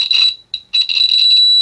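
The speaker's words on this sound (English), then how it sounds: "we have a buzzer." A multimeter's continuity buzzer sounds loudly while a cell phone motherboard inductor is probed, giving two steady high-pitched beeps separated by a short gap.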